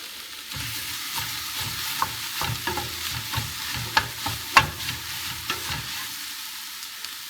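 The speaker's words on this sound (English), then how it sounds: "We're going to saute that up. So you've got celery, onions, and cabbage." Celery, onions and cabbage sautéing over high heat in a pot for pork pozole, a steady sizzle with repeated stirring scrapes and clinks, close and moderately loud with no talking.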